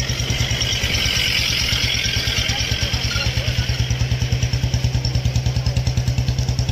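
A motorcycle engine runs during a village motorcycle rally in Punjab, a loud, close, rapidly pulsing thump that holds steady throughout.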